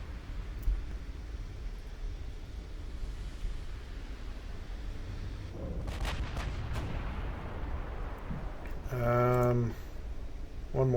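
Battleship artillery volleys in the naval game Ultimate Admiral Dreadnoughts, with a low rumbling sea-battle backdrop, a few sharp booms in the middle and a brief tonal burst near the end, under occasional speech.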